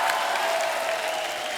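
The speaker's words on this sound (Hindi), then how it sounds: "जोरदार तालियां हमारे मेहमानों के लिए" Studio audience on The Kapil Sharma Show applauding guests, a steady dense wash of clapping throughout the short moment, loud and close.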